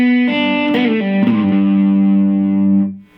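A slide guitar lick played at full speed on a distorted electric guitar: a quick run of gliding notes that settles into one long, sustained note before fading out. The guitar plays alone, up close and loud.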